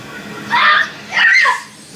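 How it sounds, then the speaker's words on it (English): A young child lets out two excited high-pitched shrieks in a row, each about half a second long, loud and close against low background noise. "Shh, no screaming."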